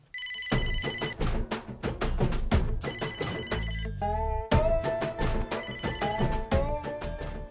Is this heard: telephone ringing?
yes